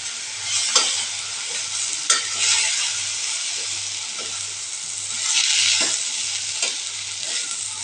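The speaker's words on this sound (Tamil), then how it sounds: "ஒரு 2 நிமிஷம் நல்லா கிளறி விட்டுட்டு இறக்கிக்கலாம்." Red aval upma stirred in a hot pan after lemon juice with rock salt is poured in, a loud continuous sizzle with repeated scraping strokes of a spoon, close and without speech.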